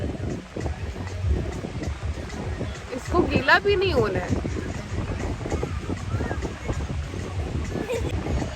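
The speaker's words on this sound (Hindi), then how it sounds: "अब हवा चल रही है, वेव्स भी आए हैं" Wind blows and waves wash in at a beach, a steady gusty rush with microphone buffeting and surf beneath, while people talk over it throughout.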